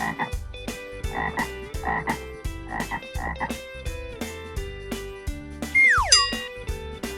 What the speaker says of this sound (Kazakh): Бақа, бақа.